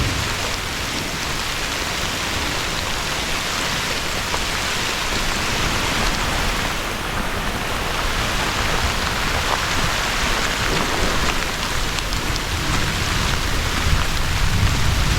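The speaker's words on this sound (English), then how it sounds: "4 inches of rain has fallen so far." Heavy storm rain with flooding and strong winds, falling on and around an abandoned house as a dense, unbroken roar for the full span, loud and close.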